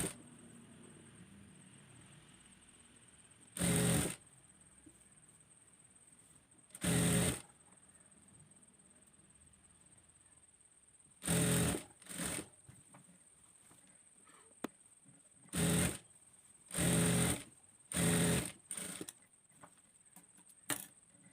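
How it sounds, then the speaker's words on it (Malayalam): An electric sewing machine stitches a frock top in short, loud whirring bursts of a second or so, about eight runs separated by quiet pauses with faint handling noise. "അങ്ങനെ ഫുള്ളായിട്ട് നമുക്ക് സ്റ്റിച്ച് ചെയ്തെടുക്കാം."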